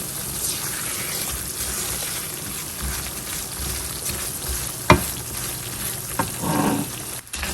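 Semolina (sooji) dry-roasting in a pan for sweet halwa, giving a steady soft sizzle and scrape of stirring with a few sharper clinks of the spoon against the pan, close and fairly quiet, no voices.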